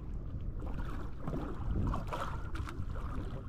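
A small outrigger boat (bangka) moves across water, with a steady rumbling wash and wind buffeting the microphone throughout.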